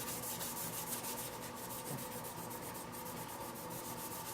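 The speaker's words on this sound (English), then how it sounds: "So give it a good scrub, and then we'll use the surface cleaner again." Steady scrubbing on a metal Heatkiller GPU backplate to remove swirl marks, a continuous close rubbing and sanding texture that runs unbroken without pauses and with no voices.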